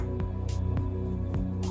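Dandelion tea being poured through a strainer for mead, wet dripping splashes falling at roughly regular intervals over a low steady hum.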